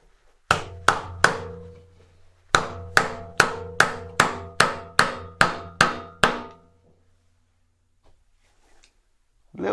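Sharp hammering blows as a rugged Ulefone phone is used as a hammer to drive nails into a wooden block: three quick strikes, a pause, then a steady run of about ten evenly spaced, loud, close hits, followed by quiet.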